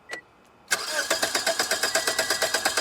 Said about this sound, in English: gonna start the engine to see what kind of fuel pressure we have, at the engine